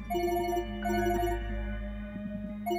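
A telephone rings with a repeating electronic tone, pulsing in short bursts at a steady pace, fairly close and clear.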